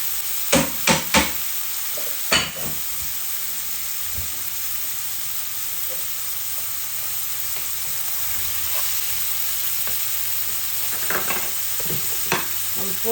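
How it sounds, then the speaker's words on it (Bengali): Large prawns with onions and spices frying for a Bengali vegetable bhuna, a steady loud sizzle broken by a few sharp stirring clacks at the start and near the end. "এই চিংড়িগুলা একটু ভাজা ভাজা হোক, ভুনা ভুনা, তারপর আমি সবজিগুলা দিয়ে দিব।"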